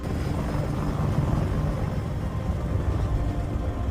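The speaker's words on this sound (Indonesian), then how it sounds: "mengirim helikopter serang Apache untuk menghancurkan senjata mortir musuh" A continuous low rumbling roar of an Apache attack helicopter in flight, steady and loud, with no talking.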